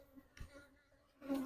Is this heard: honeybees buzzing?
yes